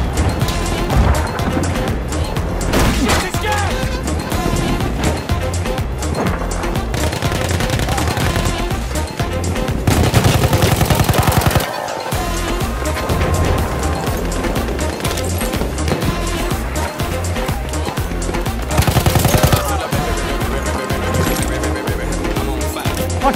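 Machine gun fire in the video game Battlefield 1, with dense, loud bursts of rapid shots layered over a constant busy battlefield din and a few sharper blasts.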